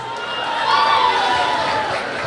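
An audience at a 2019 Maghe Sankranti celebration by the Magar Association in New York applauds the association, a dense, steady wash of many hands clapping that holds evenly throughout.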